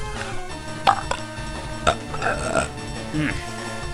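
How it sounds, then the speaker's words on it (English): A man burps with a few short, close belches, one after another, while a quiet music track from the Pokémon Fire Red game plays underneath. "And I have to burp."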